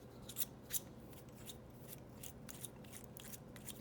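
A Lamy Aion ballpoint pen is twisted apart by hand, producing a few faint, close little plastic clicks and light rubbing over a quiet room background.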